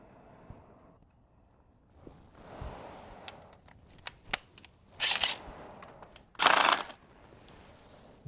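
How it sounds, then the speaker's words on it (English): A nut going back onto a Honda Ruckus scooter in a workshop, with faint taps and scrapes, quick ratcheting bursts, and a few sharp metallic clicks, all close up with no voices. "Put the nut back on."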